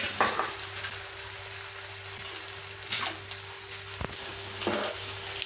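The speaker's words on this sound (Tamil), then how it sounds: "நல்லா சிம்மில் வச்சு நல்லா ஃப்ரை பண்ணிகிட்டே இருங்க" Baby corn pieces frying until crispy over a low flame, giving a soft, steady sizzle with a few sharper crackles and spatters close by, and no talking.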